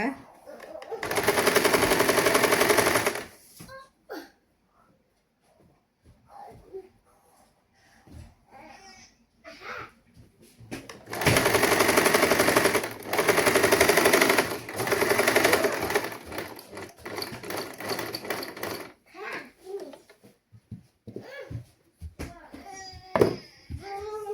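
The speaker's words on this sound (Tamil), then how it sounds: "அரை இஞ்சி இடவழியில் நீங்கள் தைச்சு கொண்டு வாருங்கள் சுற்றி வர" A sewing machine stitches a saree blouse in two long bursts of steady, loud mechanical whirring, with quieter stretches of someone talking in between.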